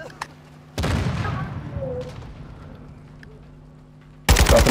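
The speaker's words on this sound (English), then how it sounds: "Dropping the mortar." A mortar strike in Call of Duty: Modern Warfare 2 lands as a sudden loud boom with a long, rumbling decay. A second sharp blast cuts in near the end.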